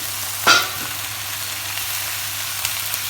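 Swiss chard leaves being stirred in a frying pan, a steady close sizzle with a brief sharp scrape of the utensil near the start and no voices.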